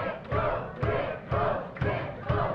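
A wrestling crowd at a PCW tag-team match roars in loud, swelling waves, with cheering surges repeating roughly every half second to a second, close and continuous with no clear talk over it.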